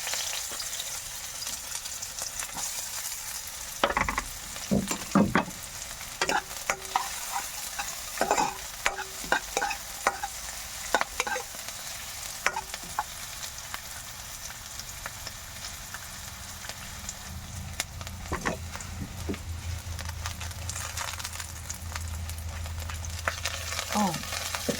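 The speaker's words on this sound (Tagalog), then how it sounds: "lutoon sa nato ang giniling na karni" Ground meat frying and being stirred in a pan, with a steady sizzle and repeated scraping strokes of a utensil throughout, some louder clatters near the start and a low rumble toward the end.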